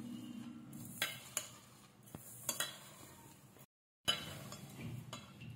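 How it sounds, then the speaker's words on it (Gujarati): A spoon stirs green sorghum patty stuffing with salt and coriander in a bowl, giving quiet scraping strokes and a few sharp clinks against the side, with a short silent gap. "હવે આપણે આ સ્ટેપિંગને એકદમ સરસ રીતે મિક્સ કરી દઈશું આ રીતે."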